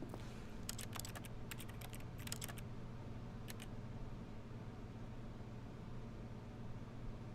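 Keyboard-like clicking from The Stanley Parable: a flurry of sharp, quick clicks in the first few seconds, then a short pair later, set over a steady low background hum with no talking.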